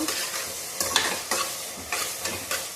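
Coriander and mint masala fries in a pan with steady sizzling, broken by several rhythmic scrapes and stirs of a spoon against the pan, close and fairly loud.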